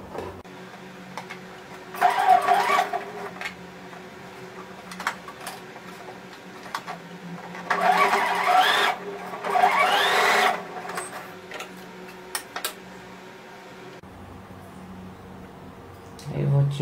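A sewing machine stitches fabric pieces for a fox-shaped toy, running in loud whirring bursts separated by pauses, with soft handling noises between bursts.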